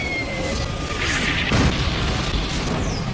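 An explosion in an animated fight lands as a loud boom with a brief crashing burst, set against a dense, noisy background.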